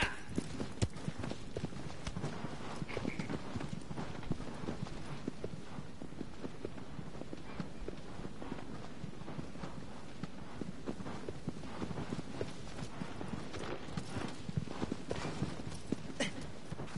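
Horse hooves clip-clop steadily in the video game Shadow of the Colossus, a continuous quiet rhythm of footfalls on ground with no talk over it.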